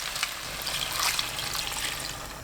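Water poured into a pot of stir-fried radish and tuna seasoning, a steady splashing pour lasting a couple of seconds, close and moderately loud.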